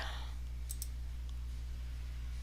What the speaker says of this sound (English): And I'm going to click on download.